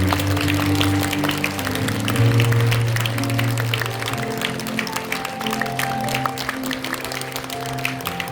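Church congregation clapping to welcome newly ordained deacons during a service, a steady wash of hand claps over sustained organ or music tones throughout.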